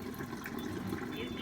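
Water running from a Kangen water machine, a steady, soft trickle and splash out of the top outlet at a fairly close distance, with faint voice-like sound in the mix.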